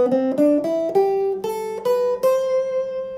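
A guitar plays a minor pentatonic scale with an added ninth and fourth, eight clear ascending single notes picked one after another, bright and close with each note ringing briefly.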